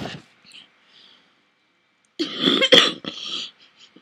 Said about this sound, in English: I'm sorry for the coughing again.